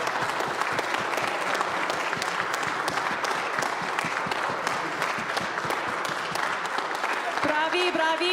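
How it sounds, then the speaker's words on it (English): An audience claps steadily for performing artists returning for a finale at a Second Sundays African American History Month event, with dense, lively applause that continues until a voice starts talking at the end. "Yeah, you can clap for them."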